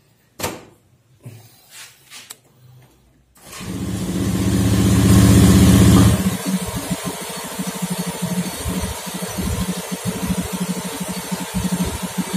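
Honda Beat FI scooter with a sluggish, fuel-starved fault: a few clicks and knocks, then the engine starts, revs up loudly for a few seconds and settles into a steady, slightly uneven idle.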